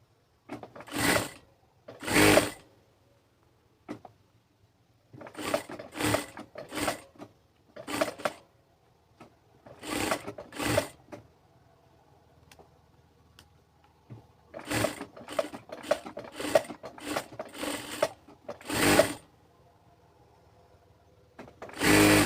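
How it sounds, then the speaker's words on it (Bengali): A sewing machine double-stitches the seams of a kameez, running in short bursts of rapid stitching separated by pauses, close and moderately loud with no talking. "বড়টা সিলে সহ ডাবল সেলাই করে এই যে হয়ে গেল"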